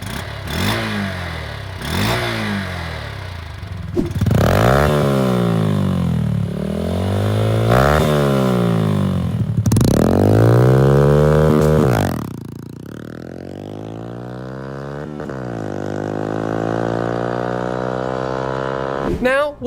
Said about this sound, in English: let's start it up real quick and show you what she sounds like